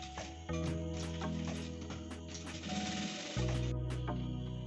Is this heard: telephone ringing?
no